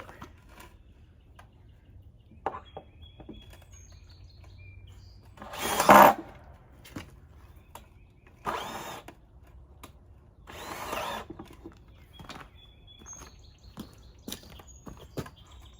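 A power drill drives a screw into a wooden crappie fish carving, a short whirring burst near the middle standing out loudly, with a few briefer tool bursts around it against a quiet workshop background.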